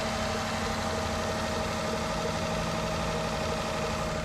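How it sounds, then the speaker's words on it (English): A car engine runs at a steady idle, with a constant low rumble and a faint hum throughout and no other sounds. "go ahead and start her up"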